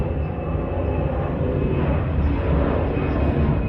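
An airplane flies overhead with a steady, broad low rumble that holds evenly at moderate loudness and does not fade, with no voices heard.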